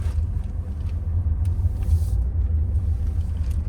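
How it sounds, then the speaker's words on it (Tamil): Interior of a Tata Tigor car driving over a bad road, a continuous low engine and road rumble with occasional thumps from the uneven surface, heard from inside the cabin without talk. "நம்ம பேட் ரோடில் போயிட்டுருக்கோம்"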